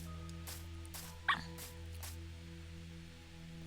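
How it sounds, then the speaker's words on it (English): A little puppy gives a couple of short, high yips against a steady hum, with faint whimpering squeaks in between, heard from nearby without any talk. "Was that a baby puppy? It's a little puppy."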